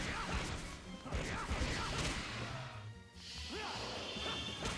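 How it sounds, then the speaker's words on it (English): Werewolf Sonic smashes clay pots in Sonic Unleashed, giving repeated crashing breaks and thuds over a busy game soundtrack. A voice talks faintly now and then. "Smashing some pots."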